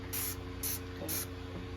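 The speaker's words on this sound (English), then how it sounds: "Now I'm going to take it and I'm just going to get the spray it for the grease" Three short hissing bursts of cooking grease spray onto a pan, evenly spaced and fairly close, over a steady low background hum.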